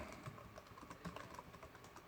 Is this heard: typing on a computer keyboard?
yes